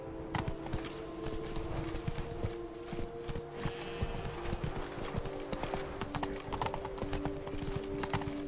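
Hooves of Geralt's horse Roach in The Witcher 3: Blood and Wine, a steady rhythmic clip-clop of trotting over ground, close and continuous, with faint ambient hum beneath.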